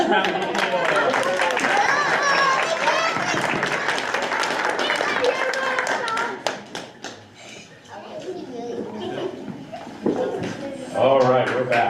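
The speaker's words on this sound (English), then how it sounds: "let's give them a nice round of applause" Audience applause at a school board of education meeting, a dense wash of clapping that carries for about six seconds, then thins out into scattered claps and room noise with a brief renewed burst near the end.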